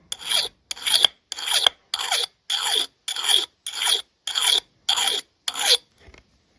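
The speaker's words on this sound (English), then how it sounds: "here is my old axe that is definitely in need of sharpening" A multitool's diamond file sharpens an old axe, rasping in about ten even, evenly spaced strokes, close and fairly loud, with no voices.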